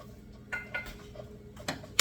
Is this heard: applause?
no